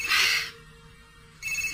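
A telephone rings indoors, one bright electronic trill, then a short gap before the next ring starts, close and clear with no talking.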